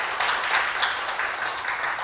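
An audience at a Gwangju city urban regeneration forum applauds, a dense burst of clapping lasting about two seconds.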